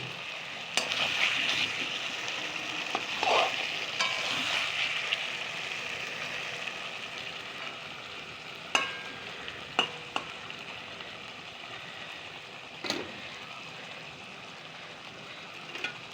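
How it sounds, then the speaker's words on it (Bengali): Loita fish fries in hot oil in a pan, a steady bright sizzle close by with a few sharp clicks and scrapes of a utensil, no voices over it. "তেল ছাড়তে শুরু করেছে, দিয়ে দিই মাছগুলো"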